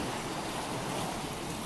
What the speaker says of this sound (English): No one's really scared of the waves.